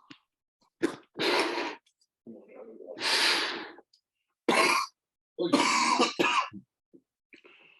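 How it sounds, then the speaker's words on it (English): A person with a lingering cough after COVID coughs and clears their throat in several close, loud bursts separated by short silences. "I haven't stopped coughing since my last time catching COVID at Science on Stage"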